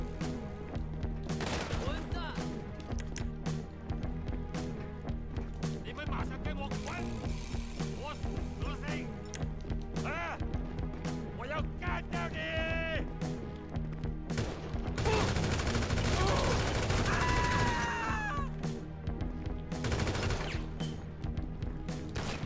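Rapid gunfire bursts and automatic weapon volleys ring out in GTA 5 Online during a nightclub contract mission, dense and repeated over game music and effects, with players talking over the shooting.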